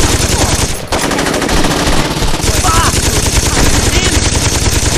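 Loud, sustained automatic gunfire from a fast, powerful, inaccurate weapon in Saints Row 2, firing in a dense continuous stream for the whole stretch with one short gap near the start.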